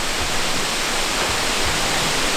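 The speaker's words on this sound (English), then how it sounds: "What do you reckon about the waterfall?" A waterfall roaring as a dense, continuous, loud wash of broadband rushing water that fills the whole clip, with no voices.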